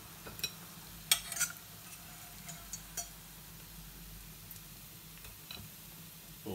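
Sea bass fries in a pan with a steady, soft sizzle, broken by scattered sharp clinks and ticks of a utensil against the pan.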